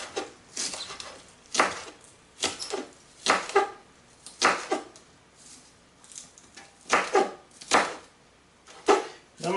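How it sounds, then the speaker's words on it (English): A knife slices a whole bunch of green onions thin on a cutting board, a series of crisp, close chops in uneven bursts with short pauses between strokes. "We're just going to slice those thin."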